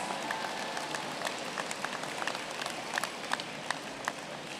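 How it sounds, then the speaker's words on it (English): Audience applause at a new student convocation, a dense, steady patter of many hands clapping with scattered sharper claps standing out, filling the hall evenly throughout. "give yourselves a round of applause"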